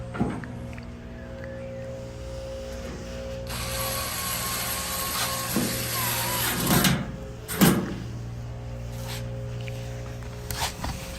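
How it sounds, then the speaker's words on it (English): A ratchet driving 1/4-inch screws into the support roller of a Maytag Bravos XL washer, with long runs of rapid clicking pawl ratchet strokes, close and steady, and a few louder clunks of metal in between. "you have your 1/4-inch screws to screw in and lock it in place"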